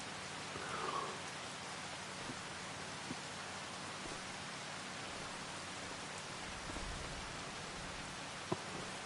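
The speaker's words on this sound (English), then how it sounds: "Listening to the rain sounds" Rain falls in Farming Simulator 25 as a soft, even hiss, quiet and continuous, with a few faint ticks and no speech.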